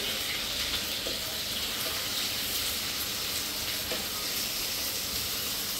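Onions going into a hot pan for a Bengali fish bhuna sizzle steadily, a continuous bright frying hiss with small crackles throughout.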